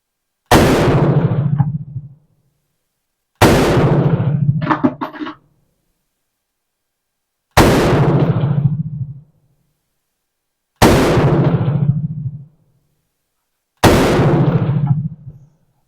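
Five loud, close semi-automatic shots from an M16A1 rifle loaded with Turkish ammunition, spaced a few seconds apart, each a sharp crack followed by a long decaying echo, with no talking.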